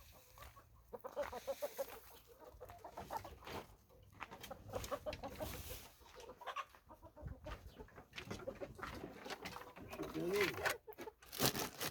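Lohmann Sandy chickens cluck and murmur nearby in a garden coop while people talk over them, the birds' soft calls scattered through the background.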